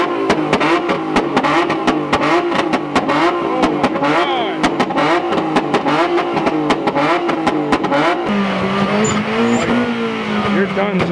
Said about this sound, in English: That Maxima has a side exit exhaust, so everybody over there is about to be hurt.